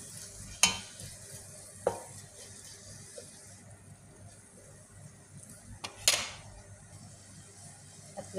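Food fries in a pan under a soft, continuous sizzle while a utensil stirs it. A few sharp scrapes and clinks against the pan stand out now and then, with no talking.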